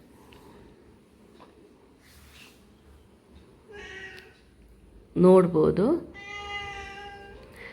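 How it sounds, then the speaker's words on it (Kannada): A domestic cat meowing for food: a few drawn-out, insistent meows in the second half, loud and close, after a quiet stretch with brief speech. "ನಮ್ಮ ಬೆಕ್ಕು ನೋಡಿ ಮಾವು ಮಾವು ಅಂತ ಹೇಳ್ತಾ ಇದ್ದಾನೆ, ಅವನಿಗೆ ಊಟಕ್ಕೆ ಬೇಕಂತೆ"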